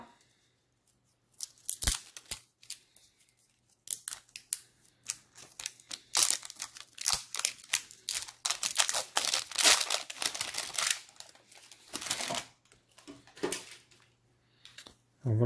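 Packaging for a Breakout Beasts surprise egg being unboxed, sturdy cardboard and plastic crinkled, torn and crushed in close, uneven bursts with short pauses between them.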